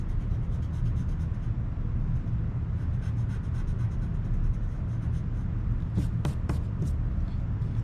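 A pencil drawing of holes in one-point perspective is erased, the eraser rubbing in quick repeated scratchy strokes over a steady low background rumble, close and continuous, with a few sharper scrapes near the end.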